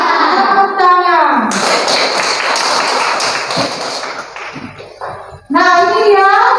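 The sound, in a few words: children clapping hands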